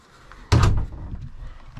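A door in an abandoned log house shuts with a single sharp, close thunk, followed by a faint rattle and quiet room tone.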